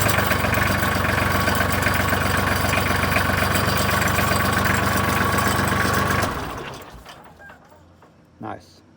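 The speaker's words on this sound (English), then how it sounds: "listen to the starter now. It didn't sound this way before." Massey Ferguson 135 tractor with a new Hitachi starter, its engine running loud and steady with a low knocking chug for about six seconds, then dying away into quiet with a brief clunk near the end.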